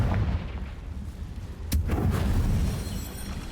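The Confringo fire spell explodes in the video game Hogwarts Legacy with a single sharp burst partway through, followed by a rumbling, booming tail over a low background din.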